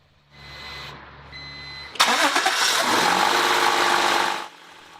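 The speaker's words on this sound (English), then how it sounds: "I'm going to start the car and see what happens here." A 1992 Acura Legend engine with a failing alternator cranks briefly and then catches, settling into a loud, steady run for several seconds before the recording cuts off. A faint electrical whine sounds beforehand.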